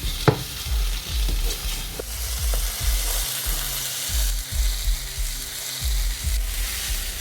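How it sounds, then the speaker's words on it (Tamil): Chicken breast pieces cook in a pan of gravy, a steady close sizzle with repeated low thumps and scrapes as the pieces are stirred, no voices. "ஸோ இப்போ சிக்கன் போடலாம். ஸோ சிக்கன் டக்குன்னு குக் ஆகிடும்."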